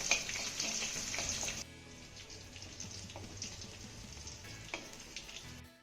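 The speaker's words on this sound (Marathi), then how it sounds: "हा लसूण आपल्याला हलक्या सोनेरी रंगावरती परतून घ्यायचा आहे" Crushed garlic and curry leaves sauté in a pan for bitter gourd keema, giving a bright, crackly sizzle that is loud at first, then settles into softer frying with occasional stirring scrapes. No one talks.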